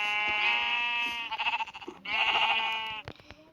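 A sheep bleats loudly and close, in two long wavering calls separated by a short gap, clear and alone with no talk.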